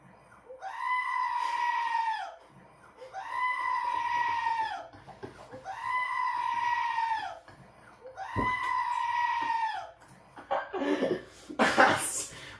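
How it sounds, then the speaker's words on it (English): A goat screams repeatedly, five long, loud bleating cries in a steady rhythm with short pauses between them, ending in a burst of noisy laughter-like sounds. "10-hour video of a screaming goat"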